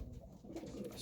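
Pigeons coo softly in a breeding loft during breeding season, a short low murmuring call heard at moderate distance with no talk over it.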